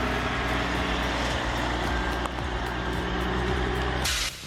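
A heavy logging truck hauls logs out of a forest, its diesel engine droning loudly and steadily up close, ending with a short hiss of air.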